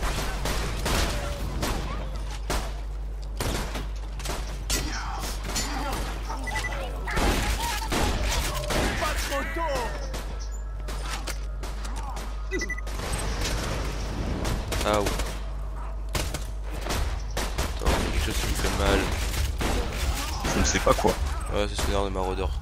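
Gunfire in the Borderlands 2 video game, repeated sharp shots and bursts scattered across a long stretch of loud combat, with people talking over much of it.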